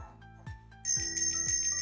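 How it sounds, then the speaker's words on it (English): A bicycle bell rings in a few quick bright dings near the end, loud and close, over faint background tones. "ring that bell"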